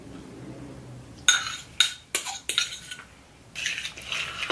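Dry baking ingredients for paleo cookies, with butterscotch morsels close by, being mixed in a bowl: several sharp clinks and scrapes of a utensil against the bowl, then a steadier stretch of stirring noise near the end, close and fairly quiet.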